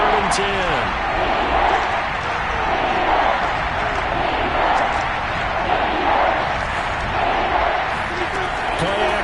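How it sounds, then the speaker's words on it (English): Stadium crowd noise from a Jaguars versus Chiefs football video game on PS5, a steady loud roar with scattered thumps and claps running throughout the clip. "Crowd getting in it a bit already."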